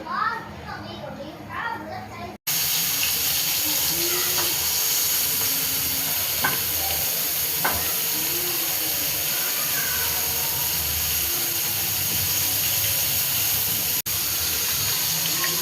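Semolina-coated marinated prawns frying in oil in a pan give a steady, loud sizzling hiss that carries on without a break, with a few brief pops and clinks. A voice is heard faintly at the start.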